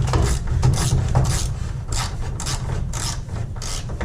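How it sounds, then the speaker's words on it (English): A wrench spins out a thermostat bolt on a Mazdaspeed, giving close, rhythmic scraping and ratcheting clicks in repeated short strokes. "And then you just spin it out."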